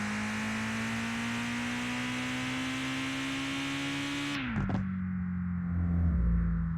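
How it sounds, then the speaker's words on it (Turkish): A Prinz car's engine drives in the Mon Bazou video game: a steady, close droning note that slowly climbs in pitch, then drops sharply as the engine note falls away near the end, with no talk. "Bu araba güzel gidiyor ama."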